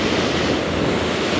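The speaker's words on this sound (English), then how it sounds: "We just need the waves. Like this one," Ocean surf breaks and washes continuously along a shore beneath a mountain, a loud, steady roar of churning water with wind rumbling across the microphone and no voices.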